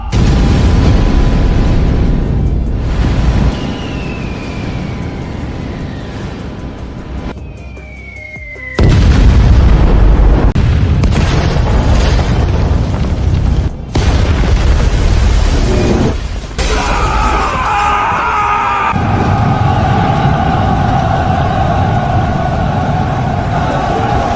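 Old-style cannons firing in a battle scene from a period drama: several loud, heavy booms and blasts with whooshing streaks, one burst after another over about twenty seconds.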